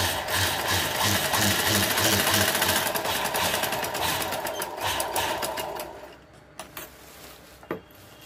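A sewing machine stitches a cloth bag, a fast, loud mechanical rattle of needle strokes for about six seconds, then it stops, leaving a few handling clicks and knocks.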